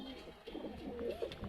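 Punjabi Malwai pigeons, a mixed flock of red and blue birds, give soft, low, rolling coos close by in a quiet setting.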